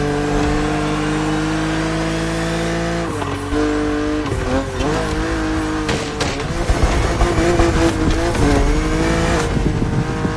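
Engine of a BMW Z4 in the racing game The Crew Motorfest, loud and close, holding a steady drone before revving, shifting and accelerating hard, with faint tire squeal toward the end.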